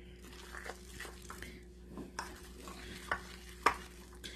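Thick cheese batter with almond flour, baking powder and salt being stirred in a bowl, soft close squishy scraping strokes with a few sharper clicks, no talking.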